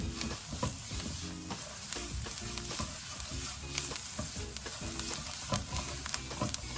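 Spice masala with garam masala, roasted cumin and turmeric cooking in a pan under steady stirring. A soft continuous sizzle carries frequent rhythmic scraping strokes and occasional sharp clicks throughout.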